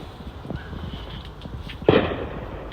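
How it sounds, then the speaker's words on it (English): A single sharp firecracker pop bursts near the end of an outdoor family evening of setting off firecrackers, following a spell of quiet ambient noise. "Oh, you see them fireworks over there."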